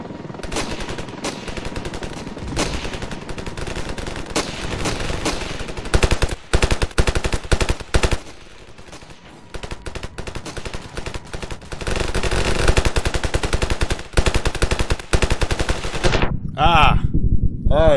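Near-constant rapid automatic gunfire in the video game Ravenfield, dense bursts with a few brief lulls and a short quieter stretch, loud and close, with faint voices mixed in.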